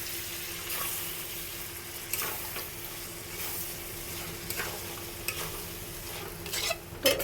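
Boiled bottle gourd sizzles and fries in a pan with chicken, a steady close hiss running throughout with scraping stir strokes and a few sharper clatters near the end.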